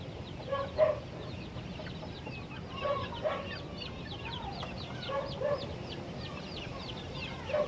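Chicks and fowl in a cold, windy coop give short, repeated peeps and soft clucks in small clusters, moderately close, over a steady rushing background of wind noise.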